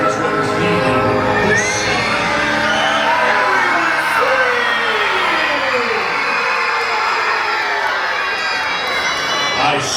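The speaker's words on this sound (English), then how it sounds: "Let me hear a loud scream" A large crowd of adults and children screams, whoops and cheers continuously and loudly at a Disney cruise Halloween show aboard the Disney Dream, voices sustained at high pitch throughout.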